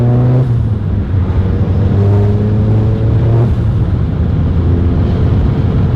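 A VW MK7 GTI accelerates on the road with upgraded brakes, heard from inside the car as a loud, steady engine drone whose pitch climbs through the gears, with a couple of shift dips and no talking.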